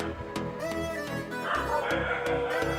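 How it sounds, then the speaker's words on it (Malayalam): A small dog yips and barks several times in short bursts nearby, over steady background sound from a video game raid being played. "ചെറിയ നായി കുറയ്ക്കുന്ന സൗണ്ട് കേൾക്കും"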